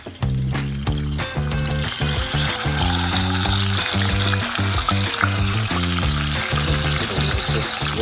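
Seasoned fish, peppered on one side, frying in hot oil, a loud continuous sizzle with rhythmic clatter and bubbling, with no talk.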